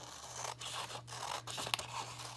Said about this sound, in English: I should have some scissors pretty close by